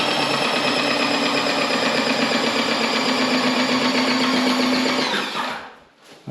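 A plastering and painting spray machine runs with a loud, steady mechanical drone and whine, alone for about five seconds before it cuts off abruptly.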